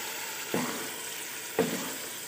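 Minced meat (qeema) with bones fries in a pan with a steady, close hiss of sizzling, broken by two brief stirring scrapes about a second apart; no voices.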